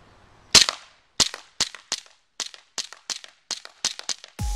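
An ECG Airsoft P226 gas blowback pistol fires BBs in about ten sharp, loud, close cracking shots at an uneven, fairly quick pace, with a brief mechanical sound at the end.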